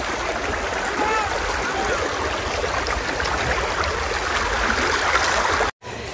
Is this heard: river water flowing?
yes